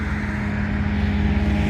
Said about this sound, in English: We're right next to a major road going between Killington and Rutland, Vermont.